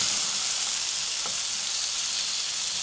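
Thin beef slices fry in a hot pan on high heat, a steady, loud, even sizzle that runs without a break and with no voices.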